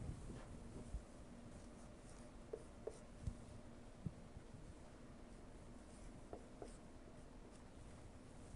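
Faint marker or chalk strokes on a board, with short soft scratches and taps spread over several seconds against a quiet room hum.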